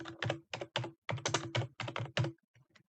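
Quick bursts of typing on a computer keyboard as a name is entered, close and crisp keystrokes in short clustered runs with brief pauses, alone without talk.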